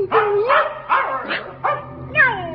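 A dog barks and yelps in short, rising and falling bursts, about five or six spaced through the moment, close and moderately loud with a whining edge, heard alone without talk.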